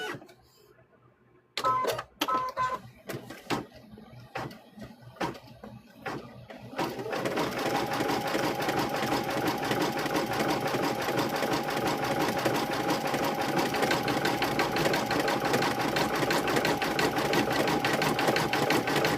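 A sewing machine making quilt squares starts with a few separate stitch clicks, then runs steadily while backstitching, giving a fast close mechanical whir with a faint motor hum. No one speaks.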